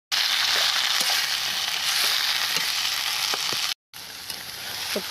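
Taro leaves fry in a pan with fish roe and spice paste, sizzling loudly while a spatula clacks and scrapes now and then; a brief gap of silence interrupts before the sizzle resumes.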